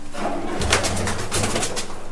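Low, throaty cooing from a Dabba pigeon in a Punjabi loft, repeated in a couple of rolling phrases that sound close and clear, with the rustle of other birds behind.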